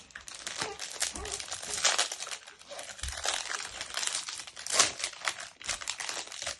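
A crinkly plastic packet of Gaafar El Omda biscuits is torn open close up. Dense, continuous crackling and rustling of wrapper plastic comes in uneven bursts, with no clear talking.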